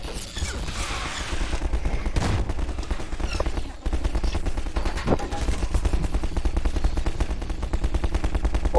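Rapid gunfire from the Half-Life 2 Synergy co-op mod, a dense run of crackling shots and mechanical clatter carrying on for several seconds over a steady game backdrop, with brief chatter from players mixed in.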